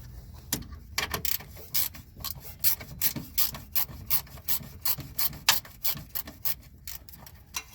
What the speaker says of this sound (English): So I'm getting a 10 millimeter ratchet wrench.